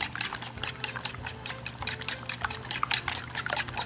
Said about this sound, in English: I love the way you beat your eggs